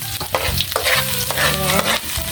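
Garlic sautéing in hot oil, busy close sizzling with repeated stirring clatters and scrapes of a utensil against the pan.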